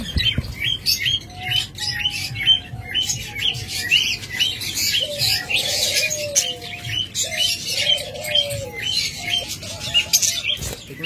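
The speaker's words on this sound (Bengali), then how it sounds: "যারা বাজরিগার পাখি খুঁজতেছেন, চমৎকার কিছু বাজরিগার পাখি আমাদের কাছে রয়েছে" Small budgerigars in a bird seller's aviary chirp and warble continuously, with dense high twittering from several birds and some lower cooing calls, close and fairly loud, with no talking.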